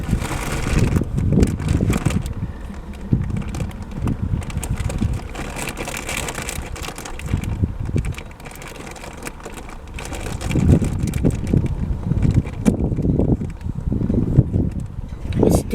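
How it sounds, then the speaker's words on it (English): Gusty outdoor wind buffets and rumbles across the microphone in uneven surges that continue throughout, with faint voices in the background. "It's still windy."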